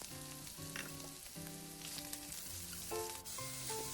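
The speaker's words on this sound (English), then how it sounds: "When the oil is hot, add the shrimp." Marinated shrimp frying in hot oil for fried rice, a faint steady sizzle lying beneath louder background music with sustained tones throughout.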